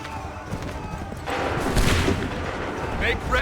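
Musket volleys crack and boom in Assassin's Creed III amid a battle scene with shouted commands, a dense burst of rolling gunfire swelling partway through, with hoofbeats and voices mixed in.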